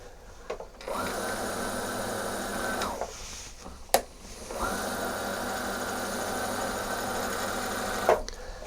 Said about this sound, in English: push the bobbin winder across to the right to engage it